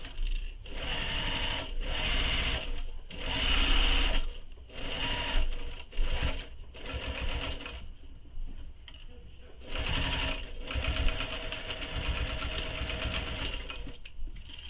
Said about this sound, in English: Sew the sides with the seam allowance given in the pattern.